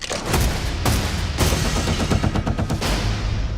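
Gunfire in a Western film, The Magnificent Seven remake: several loud, close bursts of shots, some in quick rattling succession, with reverberant booms between them and no talk.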